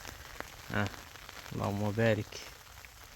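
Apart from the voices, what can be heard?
rain falling during orange harvest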